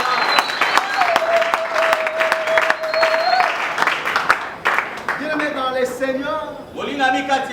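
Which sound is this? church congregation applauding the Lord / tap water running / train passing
church congregation applauding the Lord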